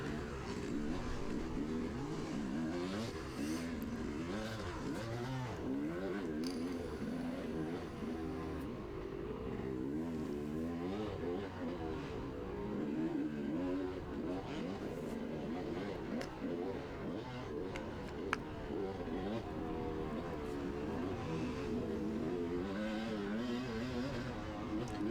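A dirt bike engine in a harescramble race revs and wavers continuously on wooded single track and open stretches, heard faintly and steadily throughout with rising and falling pitch.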